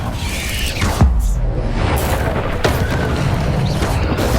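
Incendio fire spell cast in the video game Hogwarts Legacy, a loud booming burst of flame that flares sharply and then roars on steadily with crackling effects, heard alone.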